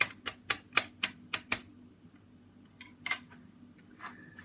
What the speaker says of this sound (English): After that, we are gonna put the onions in. I could actually cut them a little bit more.